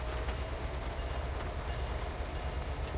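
Locomotive in a railroad simulator game, set to US NORAC signaling, rumbling steadily as the train begins to move, a continuous low broadband drone with no pauses, fairly loud and alone.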